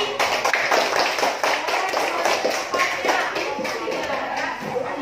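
A crowd applauds with dense, continuous clapping for several seconds, steady and fairly close, with voices mixed in underneath.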